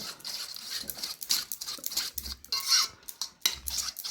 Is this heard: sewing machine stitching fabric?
no